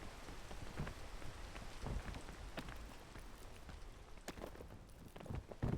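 Rain pours steadily in the video game PEAK, with heavier drops splattering close by and a few low rumbles, a continuous wet hiss without any voices.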